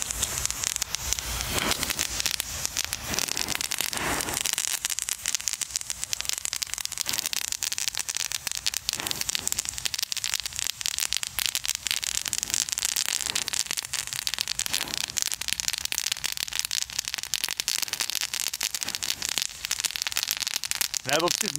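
Green flashbanger fireworks crackle in a dense, continuous burst of sharp pops lasting many seconds, loud and near, with brief talk in the background.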